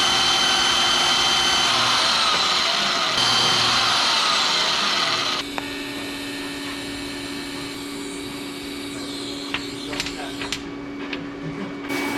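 Steel being cut for a simple hanger in a home garage, with a loud, steady power-tool grind for the first five seconds, then a lower continuous hum with a few short clanks and taps.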